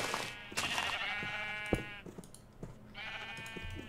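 Sheep bleat repeatedly in the Minecraft modpack FTB Revelations, with clear, fairly close calls overlapping in a short flurry and then returning after a brief pause.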